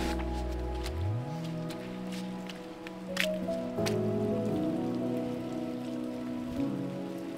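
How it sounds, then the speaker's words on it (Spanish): Rain falls on a forest trail in Huerquehue National Park, Chile, in winter. It is a steady, quiet patter with scattered drips and a few sharper taps, and a low tonal hum shows briefly at the start. "No ha parado de llover."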